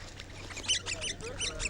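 A flock of ducks or geese follows a walking man, giving a run of faint, rapid quacks and honks from close by.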